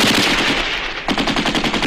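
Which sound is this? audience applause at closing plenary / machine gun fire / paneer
machine gun fire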